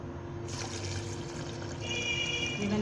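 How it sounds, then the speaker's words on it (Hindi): Water is poured into raw mango pulp mixed with sugar, white and black salt and mint for a keri sharbat, a steady liquid rush with a rising, filling tone near the end, close and with no voices. "ये मैंने पानी डाल दिया"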